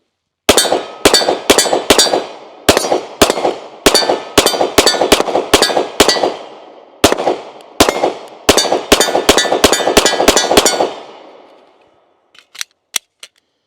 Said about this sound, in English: take just a few more shots with this one as well